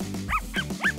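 Three quick high-pitched yapping barks from a small dog, evenly spaced within about a second, close and clear over a steady low background hum.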